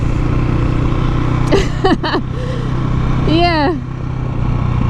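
A new KTM motorcycle engine running with a low, continuous drone while someone talks over it in the foreground.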